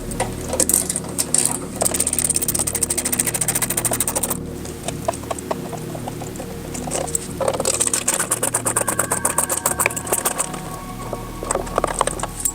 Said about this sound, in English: we're just removing those OEM screws, going ahead and getting those out of our way